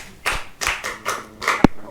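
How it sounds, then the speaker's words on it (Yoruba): About five sharp hand claps come in an even, quick rhythm, loud and close, with faint background murmur between them. "ẹ pàtẹ́wọ́ fún un."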